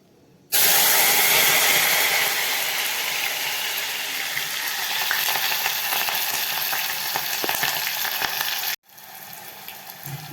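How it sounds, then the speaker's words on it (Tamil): Pieces of banana stem drop into hot oil and burst into a loud, hissing sizzle. It holds steady for several seconds, then cuts off abruptly. "இந்த வாழைத்தண்டை நான் வந்து எண்ணெயில் வந்து லேசாக வதக்கி எடுக்க போகிறேன்"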